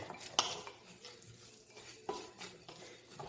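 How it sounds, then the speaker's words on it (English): Dried herbs mixed together in a bowl for a chicken snack, heard as a few sharp utensil clinks and scrapes against the bowl amid quiet rustling, with no voices. "And just kind of mix it all up together in the bowl."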